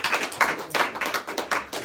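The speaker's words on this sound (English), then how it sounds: "Let's give Mason Linker a big round of applause." Applause for a colleague at a sales team meeting, a short burst of clapping from a small group with uneven rhythmic bursts, fairly close.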